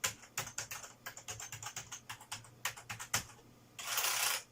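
Keys clatter on an old computer keyboard, with a quick irregular run of close, crisp clicks and a denser burst of rustling clatter at the end.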